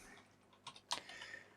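Soft clicking of computer keyboard keys during a web coding lesson on CSS, a few scattered keystrokes with a pause between them, faint and close, with no talking.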